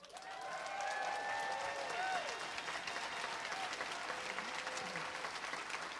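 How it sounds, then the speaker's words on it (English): A seminar audience applauds in a steady, dense wash of clapping that swells quickly and holds for several seconds, with scattered voices and a short sung or called-out tone over it. "give these guys a big round of applause"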